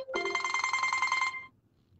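A telephone rings with a loud electric bell trill that lasts just over a second and then cuts off into quiet room noise.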